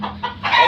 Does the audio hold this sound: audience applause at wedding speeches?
no